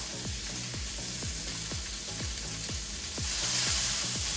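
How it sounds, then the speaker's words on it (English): Soft vegetables stir-fried in a pan with salt, sizzling steadily throughout, with regular scraping and tossing strokes about twice a second and the hiss swelling louder near the end. "Next, we're going to stir fry kind of the softer vegetables."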